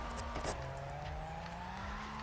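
A Toyota JZX90 drifting in the CarX Drift video game, its engine holding a steady high rev with a rising whine and faint tire squeal underneath, continuous and fairly quiet, with no voices.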